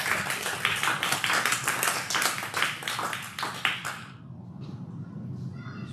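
A church congregation at an anniversary service bursts into brisk, loud clapping for about four seconds before it quickly dies away into quiet room noise.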